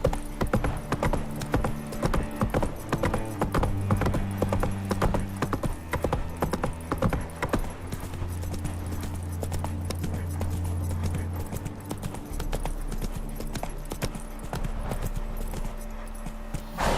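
Roach, a horse in The Witcher 3: Wild Hunt, gallops with steady rapid hoofbeats that run close and loud for the whole stretch, layered over game music and ambience.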